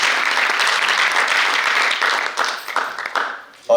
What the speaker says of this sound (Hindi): एक बार जोरदार ताली होनी चाहिए, ऐसा कि पूरा हॉल गड़बड़ा जाए।